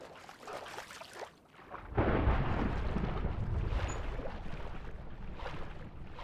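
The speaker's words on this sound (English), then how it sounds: "I'm hearing thunder." Thunder in the video game Minecraft starts as a soft hiss, then a heavy, low rumble swells in and rolls on steadily for several seconds.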